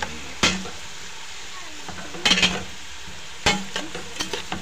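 Beef for pinapaitan, seasoned with pepper and Ajinomoto, sautés in a pan under a steady sizzle, while a utensil stirs it in several sharp scraping strokes and clanks at uneven intervals.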